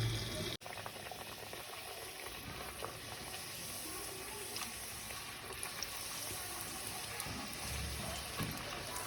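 Puris frying in hot oil, a continuous dense sizzle and crackle with small popping bubbles, steady and close throughout, with no talking.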